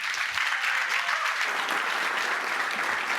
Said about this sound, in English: please welcome me with the loudest applause tonight on stage, Aaron and Gianmarco.